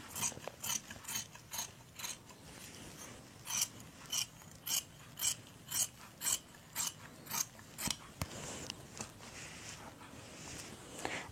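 Scissors cut fabric for a one-piece umbrella kurti with a steady series of crisp, close snips in an even rhythm, then a brief pause before a few more.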